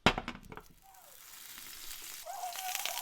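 Hash browns hit hot oil and butter in a pan with a sharp initial crackle, then settle into a steady sizzle that slowly grows louder, heard up close with a faint clink.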